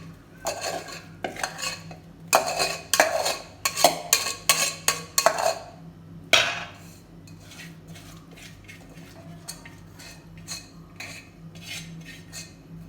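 Cooked rice with vegetables is scooped into a cooking pot in a series of close metallic clanks and scrapes of a utensil against the vessel, dense at first and then sparser and quieter.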